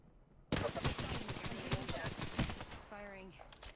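A rapid burst of close automatic gunfire in PUBG starts abruptly and rattles on for a few seconds before tapering into a brief mechanical clatter, with faint speech nearby.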